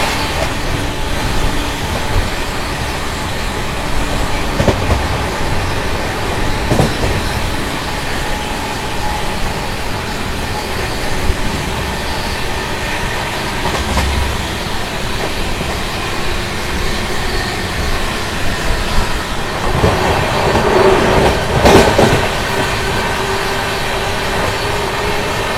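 Yesvantpur to Vasco da Gama express train running on rails, a continuous loud rumble and rattle heard from inside with occasional clanks and a brief brighter burst near the end.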